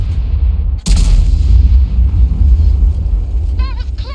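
A single heavy artillery shot in World of Tanks, a sharp loud boom followed by a rolling low rumble that fades over a few seconds beneath a steady engine drone.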